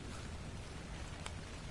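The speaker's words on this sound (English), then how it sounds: "Because it's raining." Steady rain falls in the survival game Ark: Survival Evolved, a dense even hiss of drops with a low rumbling undertone, constant and moderately quiet throughout.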